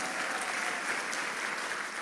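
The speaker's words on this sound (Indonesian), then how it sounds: "Berikan tepuk tangan yang meriah bagi dia." A church congregation applauds together, a steady wash of many hands clapping at moderate distance, sustained without a break for the whole stretch.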